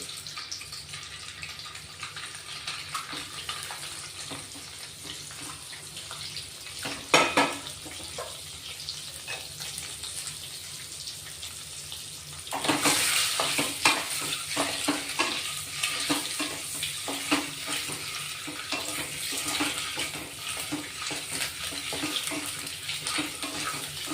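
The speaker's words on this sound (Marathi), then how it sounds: "आता आपण ही अंडी सोडून घेऊ" Eggs sizzle and fry in a pan with turmeric, garam masala and salt, a steady crackle broken by a stirring scrape near seven seconds and a louder burst of sizzling from about thirteen seconds on.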